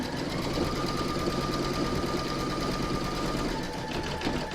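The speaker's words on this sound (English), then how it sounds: "we're going to stitch round number 15, and that's going to do the satin stitching all around the edge of the bunting" An embroidery sewing machine satin-stitches around the edge of fabric in-the-hoop bunting, giving a steady, close, continuous rapid whir and needle chatter with no pauses and no voices.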